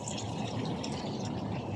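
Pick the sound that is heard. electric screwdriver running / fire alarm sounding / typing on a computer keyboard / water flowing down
water flowing down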